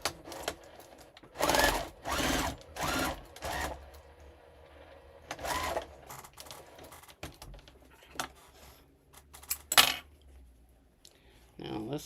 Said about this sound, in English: I'm going to sew those together and then switch and go up.